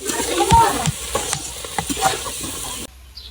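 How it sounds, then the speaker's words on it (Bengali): Eggplant pieces frying in a pan with turmeric, chili powder and salt make a close sizzle broken by repeated scraping stirs. The sound fades abruptly at the end, with no talking. "এবার বেগুনগুলো ভাজবি।"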